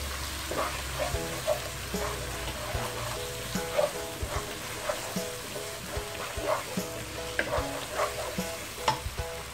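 Finely ground galangal, about 100 grams, frying in a pan for a duck dish, giving a loud, continuous close sizzle with rhythmic stirring scrapes throughout and no voices.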